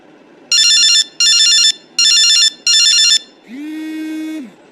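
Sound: phone ringing during a call attempt

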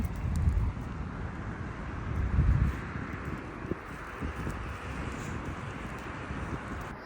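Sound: cold wind blowing at a dog field

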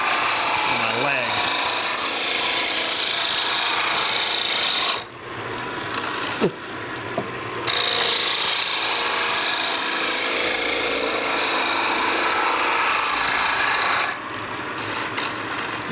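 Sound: roughing gouge turning wood reamer body on lathe

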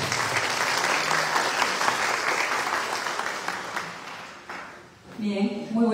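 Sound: audience applause

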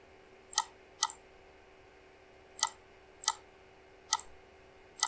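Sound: mouse clicking in Revit software

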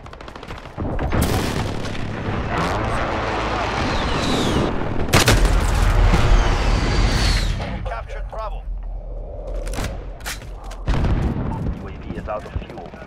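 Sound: airstrike explosions and gunfire in Call of Duty video game

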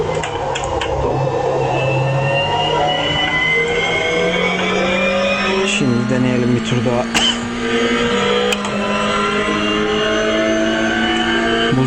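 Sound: Toyota GR race car engine in iRacing video game

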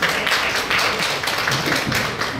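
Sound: applause welcoming a speaker at a hotel alliance ceremony

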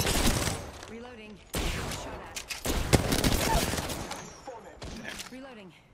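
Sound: gunfire from behind in video game Apex Legends

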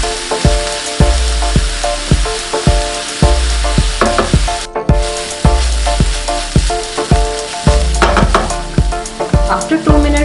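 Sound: frying vegetables in a pan for lentil kebab mix

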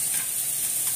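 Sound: sausage and onion stir-frying in a pan

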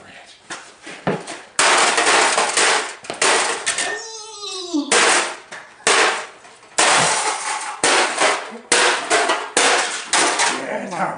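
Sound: sledgehammer smashing a computer

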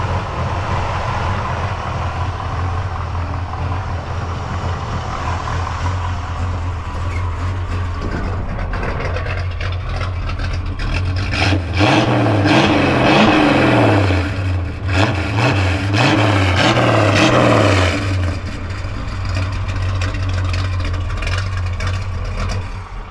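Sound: 1967 Pontiac LeMans engine running with dual exhaust

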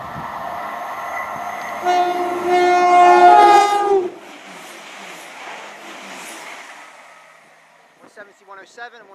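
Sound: Class 170 Turbostar diesel train passing with Doppler effect

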